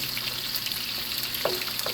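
Meat fries in a pan, with a steady close sizzle and faint bubbling throughout and one brief sharper clink near the end, with no voices.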